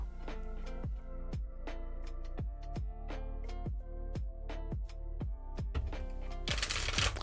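Oracle cards being shuffled, a rapid run of crisp riffling snaps in a steady rhythm, close and distinct, ending in a brief dense flutter as the deck comes together.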